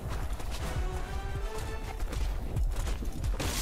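Horse hooves in the medieval combat game War of the Roses, a rapid, close clip-clop gallop with a whinny, over busy battle noise and no voices.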